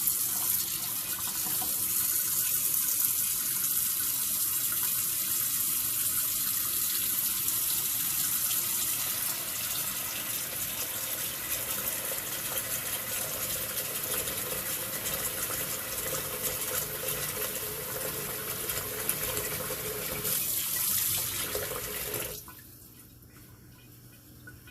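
Hot water pours steadily while salt mackerel is prepared for a Jamaican meal: a constant close hiss of running water that lasts over twenty seconds, then abruptly cuts off, leaving quiet room tone.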